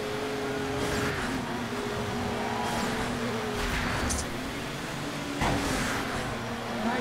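A car engine races in the game DiRT Showdown during a demolition derby, a steady droning motor with rising revs and occasional bursts of tire and impact noise, continuous and moderately loud.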